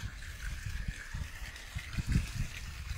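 Water runs and trickles steadily into an aquaponics grow bed during system cycling, a soft continuous gurgling flow with faint splashes, heard alone and fairly quiet.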